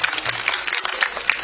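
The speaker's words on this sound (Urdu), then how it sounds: "میں چاہوں گا بہت سی تالیوں میں ان کا استقبال کیا جائے" A television studio audience applauding to welcome the PTV chairman at a Ramadan debate competition in Pakistan, a short burst of scattered clapping under a voice.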